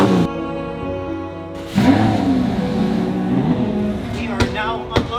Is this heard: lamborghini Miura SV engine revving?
yes